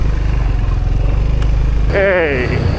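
Italjet Dragster 250cc scooter engine idles in a close, steady low throb before a voice cuts in over it near the end.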